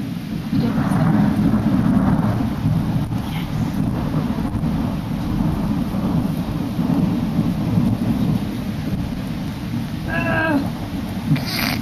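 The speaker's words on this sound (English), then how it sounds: "Yeah, well that's what happens when it rains." A thunderstorm with rain roars continuously outdoors on a patio, with heavy rain hiss and low rumbling thunder throughout, while a cat meows briefly near the end.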